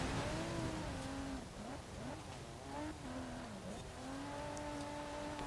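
Jaguar engine in Forza Horizon 4, a fairly quiet car droning and rising and falling in pitch as it shifts through gears, with faint tire noise and no speech.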